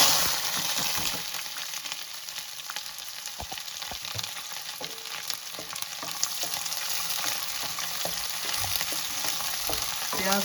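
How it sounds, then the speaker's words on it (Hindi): Onions fry in hot mustard oil in a kadai, giving a steady, dense sizzle with scattered crackles and occasional stirring clinks, close and continuous throughout with no talking. "इसमें हम फ्राई कर लेंगे प्याज।"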